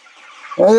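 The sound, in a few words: chickens squabbling over feed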